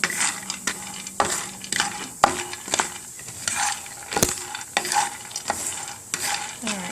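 Unsalted peanuts brown in a hot pan on high heat, a steady sizzle broken by repeated scraping stirs in an irregular rhythm, close and fairly loud.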